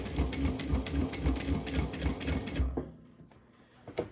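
A Juki 1181 industrial single-needle lockstitch sewing machine stitches in a fast, even rhythmic chatter for about two and a half seconds, close and loud, then stops, followed by quiet with a couple of faint clicks.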